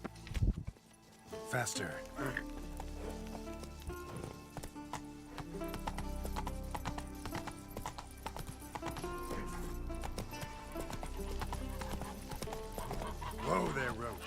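Roach the horse gallops in The Witcher 3, a rapid, rhythmic clip-clop of hooves on the ground over background game music, with a short whinny and someone speaking briefly near the start.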